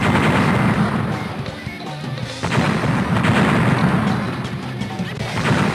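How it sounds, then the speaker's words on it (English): Loud, dense crashing blasts and booms in rapid succession in the video game Biker Mice from Mars, a chaotic barrage of explosions filling the whole stretch. "Oh my gosh, these explosions are so loud."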